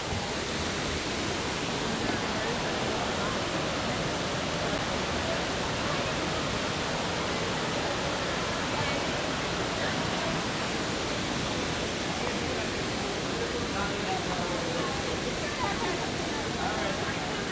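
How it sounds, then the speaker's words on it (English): Waterfalls at Disney's Animal Kingdom, a constant broadband rush of falling water, steady and unbroken with no distinct events, filling the whole clip at moderate level. "I can hear all the water, of course, but none of the insect, screeching banshees, birds, none of the fauna sounds, just the waterfalls here"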